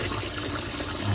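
Water runs steadily while sushi rice is rinsed, a continuous close splashing trickle with no talk, at a moderate level throughout.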